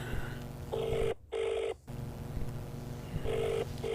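A phone rings during a call with a repeating electronic ringback tone in steady pulses, separated by short gaps over a faint background hum, with no talking.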